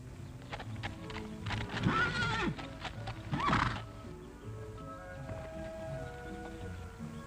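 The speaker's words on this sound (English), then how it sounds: "Now, you keep that white mare from stampeding while I get a rope on her." A white mare whinnies twice, loud and close, while her hooves clip-clop over a rustling outdoor background.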